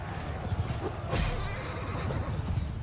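A horse whinnies once amid the noisy ambience of a Mount & Blade II Bannerlord battle, with scattered hoof clatter and background din around it.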